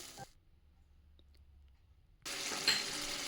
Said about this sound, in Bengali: আমি নাড়তেছিলাম সবগুলো ফ্লেভার যাতে মুরগির মধ্যে ঢুকে